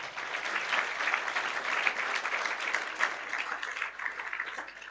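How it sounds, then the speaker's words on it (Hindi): Steady, dense applause from a school audience, sustained and even throughout with no pauses or voices standing out. "इसलिए उनके लिए ताली बजाएं"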